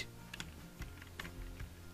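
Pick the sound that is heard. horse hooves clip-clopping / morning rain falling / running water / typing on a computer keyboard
typing on a computer keyboard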